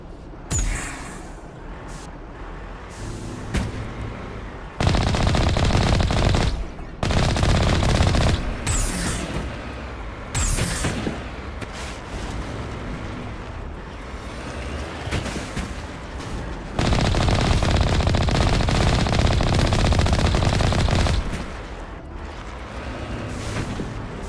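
Heavy automatic gunfire and explosive bursts from a Mass Effect firefight against Geth, including an assault on a Geth Colossus, loud sustained volleys in several surging waves with no talking.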